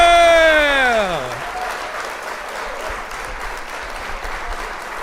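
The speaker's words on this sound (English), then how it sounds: "Shout out to Lupe Fiasco. Round of applause." A brief spoken voice opens, then a steady round of applause for Lupe Fiasco carries on alone for several seconds at an even, moderate level.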